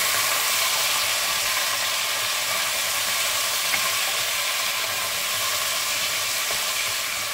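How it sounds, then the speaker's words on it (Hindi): Peas, beans and cauliflower sizzle in a pan over a high flame, a loud, steady hiss of frying that runs unbroken throughout with no voices. "और इसको हम तकरीबन 1 से 2 मिनट के लिए ऐसे ही फ्राई करेंगे"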